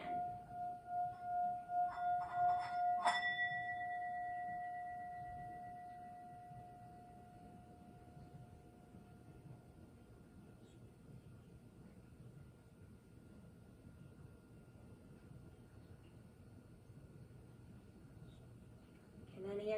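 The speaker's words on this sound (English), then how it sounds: "when you can no longer hear the sound of the singing bowl" A singing bowl gives a single bright metallic ring with a clear sustained tone, struck once and slowly fading away over many seconds into quiet room noise in an elementary school room.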